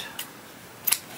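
Scissors snip through crochet yarn in two quick, crisp cuts, close and dry against a quiet room, the second snip slightly louder than the first.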